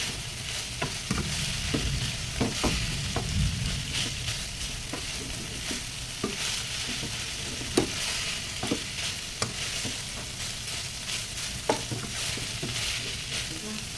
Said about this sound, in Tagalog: Haluin lang. Ayan, para ma-mix ang ating mga nilagay na seasoning sa ating chicken flakes.